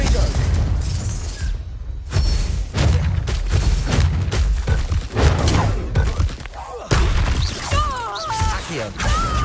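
Confringo blasting spell explosions in the video game Hogwarts Legacy, several loud booms and crashes scattered among combat noises, with brief cutoffs between bursts.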